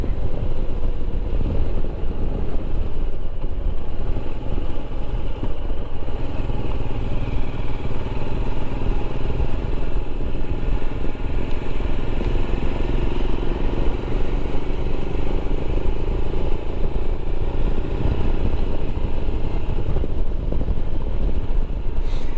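A Royal Enfield Himalayan motorcycle being ridden, its mid-pitched single-cylinder engine droning steadily and loudly throughout with constant wind rush and road noise, without noticeable changes in pace.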